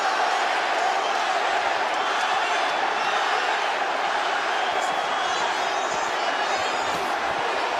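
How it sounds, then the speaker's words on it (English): A boxing arena crowd on its feet cheering late in a fight between Devin Haney and Ryan Garcia, a steady dense roar filling the whole stretch with scattered whoops and shouts rising out of it. "The crowd is on their feet as they have been for the past few rounds."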